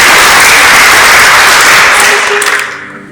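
Loud audience applause in a church gathering, dense sustained clapping that fades out toward the end.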